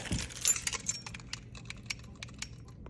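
Keys jangle and clink close by in a few quick bursts, then lighter scattered rattles as they are handled.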